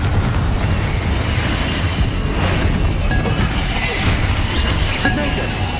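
Confringo blast spell going off in Hogwarts Legacy, a dense, loud rumbling roar of explosive noise sustained throughout with crackling debris on top.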